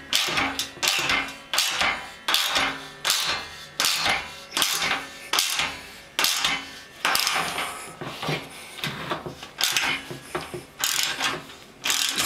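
A socket wrench ratchets while tightening a hole cutter through a brewing kettle wall to fit a Blichmann BoilCoil: loud, close clicking bursts repeat in a steady rhythm of short pulls.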